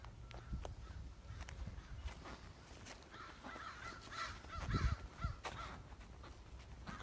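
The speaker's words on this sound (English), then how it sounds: "Crows." Crows cawing among wildfire ruins in Santa Rosa, California, several scattered calls at moderate distance over a low outdoor rumble and wind, with a louder burst of calls near the middle.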